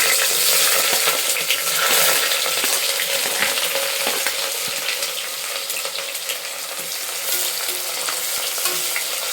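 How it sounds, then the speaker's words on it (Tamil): Sliced onion with whole spices, cinnamon stick and bay leaf, sizzles steadily in hot ghee, a dense continuous frying hiss with scattered stirring clinks and no voices. "பட்டை இலை நீல வாக்கில் கட் பண்ண வெங்காயம் சேர்த்துடலாம்"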